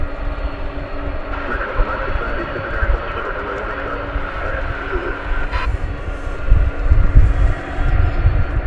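A jet airliner's number 2 engine spools up at DFW Airport at night, a loud, steady roar with a rising whine, heard over broad airport rumble.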